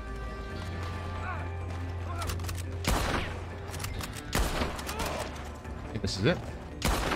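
Gunfire in the Red Dead Online video game, a few sharp shots breaking out over steady background game noise, with someone talking briefly at the start.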